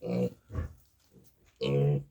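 A month-old piglet grunting while being weighed on a small farm, three short low grunts and squeals in quick succession, close and fairly loud, with no talk over them.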